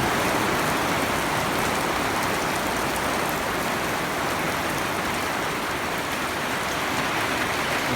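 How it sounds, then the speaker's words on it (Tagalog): Steady, dense rain hisses without pause, a broad even wash of falling water with no voices or other sounds standing out. "Ulan, gabi."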